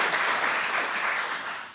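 An audience at a technical conference talk on UAA, OAuth 2.1 and OpenID applauds a contributor, a short burst of clapping that starts full and fades slightly toward the end.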